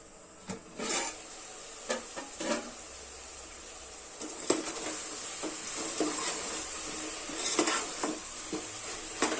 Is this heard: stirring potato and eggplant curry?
yes